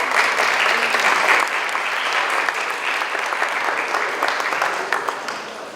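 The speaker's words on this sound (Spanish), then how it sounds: "Recibamos con un fuerte aplauso a Andrea Rosero." Audience applause at a conference on artificial intelligence in marketing, a steady wash of many hands clapping that holds at full strength for several seconds and then eases slightly, with no talk over it.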